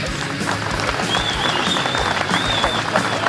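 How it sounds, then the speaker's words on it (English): Spectators at a racing event give a round of applause, a busy spatter of claps mixed with crowd noise and a faint high whistle-like tone partway through. "big round of applause"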